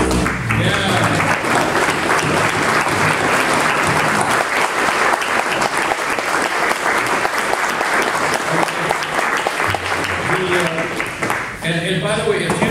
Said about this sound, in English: stand up so we can applaud your work and leadership in our society and on this conference